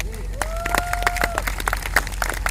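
Audience at a live business event gives a short burst of scattered clapping, mixed with crowd noise and a tonal voice or music sound.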